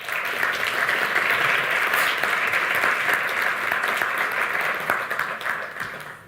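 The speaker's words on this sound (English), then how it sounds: "So please, a round of applause for our SOC." An audience at an astronomy workshop gives a burst of applause. The dense, even clapping fills the room for about six seconds and then tapers off.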